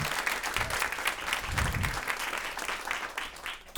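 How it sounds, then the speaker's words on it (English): An audience gives a steady round of applause for urban farmer Karen Washington at a Climate Week conversation, dense clapping throughout with a low murmur underneath. "Please give her a round of applause."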